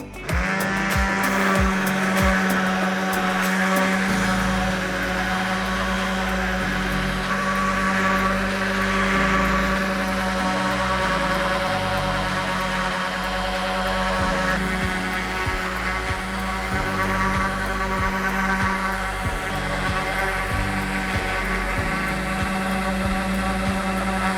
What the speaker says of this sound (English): Now we're going to sand them.